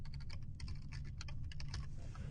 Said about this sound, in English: So if I type in ping